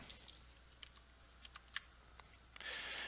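Quiet, scattered keystrokes on a computer keyboard tap out a short label entry in irregular bursts, ending in a brief louder clatter, with no talking.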